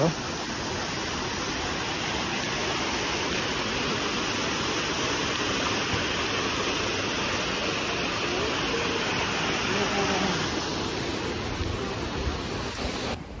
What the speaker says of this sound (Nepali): झरना छ